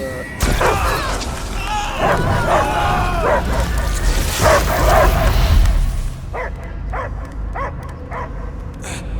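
Dogs bark and yip in quick bursts, loud and close, with a few sharper, fainter yaps near the end, in the video game Marvel's Guardians of the Galaxy on PS5.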